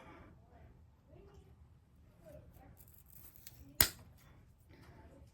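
Pruning shears cutting through a Phalaenopsis orchid keiki stem: one sharp, crisp snip stands out clearly against a quiet background, with soft speech murmuring before and after.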